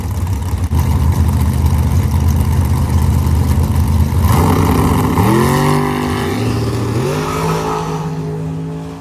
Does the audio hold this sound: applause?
no